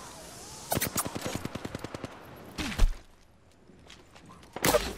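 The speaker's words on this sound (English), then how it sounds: "Getting shot at." Video game gunfire in a fast regular automatic burst of about a dozen evenly spaced shots, followed by a heavier impact and another loud blast near the end.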